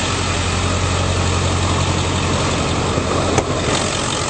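A 2002 Ford F-350 Super Duty with a 7.3L diesel engine running at a loud, steady idle with a constant low rumble and a single small knock near the end; no talk.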